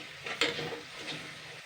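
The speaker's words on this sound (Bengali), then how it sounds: "নাড়াচাড়া করা হয়ে গেছে মশলাগুলো" A spoon stirs spices with soy sauce, salt and sugar in a pan for a Bengali chicken curry, giving soft scraping and light sizzling with a sharper clink near the start.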